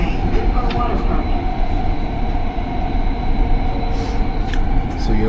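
A Canada Line SkyTrain in Vancouver rolls from Olympic Village toward Yaletown, a loud, steady interior rumble and hum with faint rail clatter throughout.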